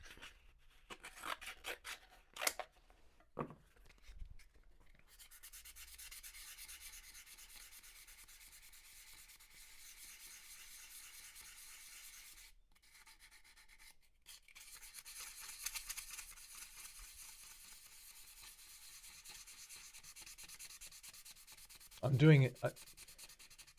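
Fine-grit sandpaper is rubbed by hand over wood along the grain, making a soft, steady scratching hiss that runs in long close strokes, with a few knocks and taps before it starts.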